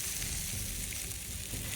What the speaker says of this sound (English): A sizzling beam shoots out of the hole and strikes you dead in the eye.